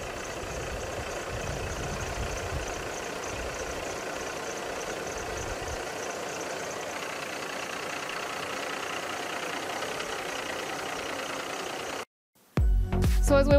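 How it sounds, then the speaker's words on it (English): A 2005 International 9400i sleeper-cab truck's diesel engine idles with a steady, even rumble for about twelve seconds, then cuts off briefly before a louder burst of mechanical noise starts up near the end. "gonna start the engine so that you can hear it run"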